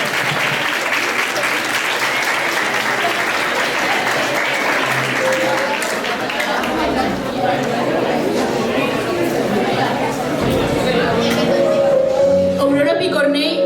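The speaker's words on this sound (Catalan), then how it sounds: "m'agradaria que féssiu un aplaudiment" An audience at an International Women's Day event in Son Pacs, Palma, breaks into sustained applause, steady and full for over ten seconds, with chatter rising through it toward the end.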